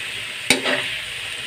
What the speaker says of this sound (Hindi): इसे करते हैं मिक्स मिक्स मिक्स।